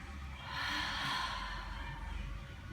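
A person takes a deep inhale during a seated spine twist exercise, a single long, close breath swelling and then easing off.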